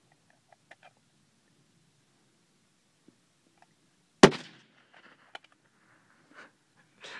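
A single sharp rifle shot rings out at a long-range target 790 yards away, one loud crack with a brief decaying tail amid otherwise quiet surroundings.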